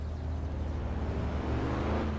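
A car drives in the My Summer Car video game, with its suspension lowered and its wheels changed. A steady, low engine drone with a slight rise in revs fills the short stretch.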